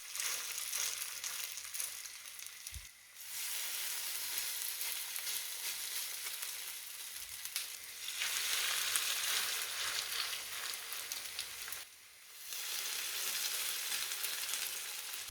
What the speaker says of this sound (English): let's heat up some oil in a frying pan and turn this mixture into delicious hash browns